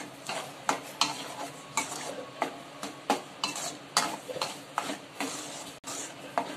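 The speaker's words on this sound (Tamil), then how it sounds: "இந்த மசாலாவை நம்ம நல்லா சுண்டற அளவுக்கு வதக்கணும்" Masala with turmeric and salt sautés in a pan for a Burmese fish sebiya dish, with a soft sizzle under rhythmic spoon strokes that scrape and tap the pan about twice a second.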